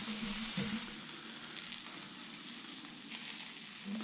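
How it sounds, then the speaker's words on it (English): Hot dogs in white casings sizzle on a roller grill, a soft, steady crackling hiss heard close and alone, with faint scrapes in between. "Ooh, that sizzle."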